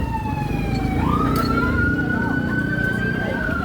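A fire truck siren wails loudly, its pitch climbing and then holding steady over a rumbling engine and street noise.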